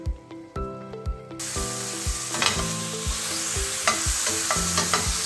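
Okra frying in mustard oil in a pan for dhaba-style bhindi masala, with a steady broadband sizzle and repeated scraping stirs of a utensil at a regular rhythm, close and fairly loud, no talking.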